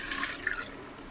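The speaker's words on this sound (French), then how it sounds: "Donc je reverse dans ma casserole l'appareil." A short stream of flan custard mixture pours steadily into a saucepan, a soft continuous splashing with no voices.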